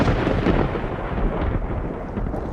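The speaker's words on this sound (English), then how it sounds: "dark clouds rolled in and rain poured down" Loud thunder rumbles through a heavy downpour of rain, a dense continuous roar of storm and pouring water with no voices.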